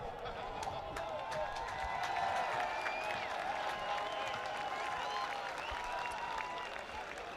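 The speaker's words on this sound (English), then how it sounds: "I want to have a round of applause in thanking him" A large crowd at an outdoor rally in London applauds and cheers, a broad distant wash of clapping and voices that holds steady throughout.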